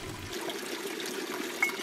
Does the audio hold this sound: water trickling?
yes